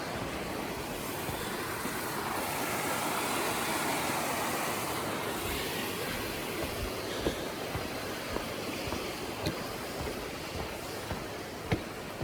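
Water of Paiute Creek rushes beneath a trail bridge in the Sierra, a broad steady wash of flowing water with a few faint knocks and taps near the end.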